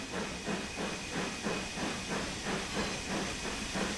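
A British steam locomotive in Train Sim World 3 on the Peak Forest Railway hisses steadily, with a broad steam roar pulsing in a regular chuffing rhythm, close and continuous with no talk.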